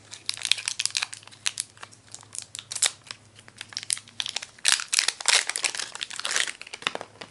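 Medium-format roll film crinkles and tears as it is pulled out of its box and foil wrapper while loading a Hasselblad 500C camera, giving a dense run of close, loud crackling with brief rips.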